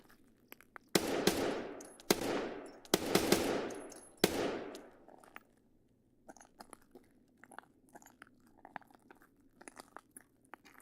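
Bursts of automatic gunfire in the first-person shooter Escape from Tarkov: four loud, sharp volleys of rapid shots, each trailing off into a fading echo, followed by quieter scattered clicks and rustling.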